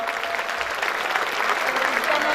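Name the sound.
applause welcoming a guest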